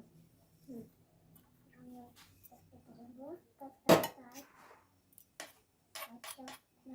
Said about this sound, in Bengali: এরকম লাইন লাইন করে কেটে নেব